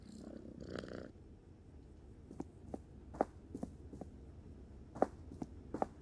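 A cat purrs softly in the indie adventure game Slender Threads, a low steady purr with a few light footstep-like taps and clicks scattered over it, quiet and close with no talking.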